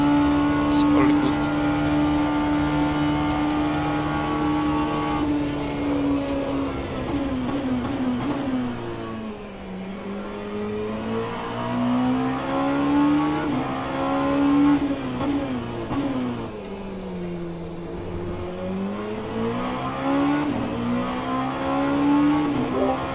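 Oreca LMP2 prototype race car engine in rFactor 2 at Le Mans, a loud sustained high-pitched drone with rising and falling revs through gear changes and braking, with people talking over it.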